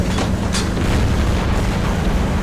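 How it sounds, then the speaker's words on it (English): A tank gun fires at a Ferdinand tank destroyer in a tank battle game, a single loud booming shot over a dense, rumbling battlefield din. "Ferdinand's still pretty close to full health, and so I decide to open fire on him"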